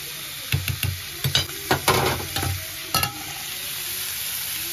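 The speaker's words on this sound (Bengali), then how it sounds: "বিনস গাজর আর ক্যাপসিকাম ভাজা করে নিচ্ছি" Beans, carrot and capsicum frying in a pan, with a close, steady sizzle and a run of sharp spatula scrapes and knocks in the first three seconds.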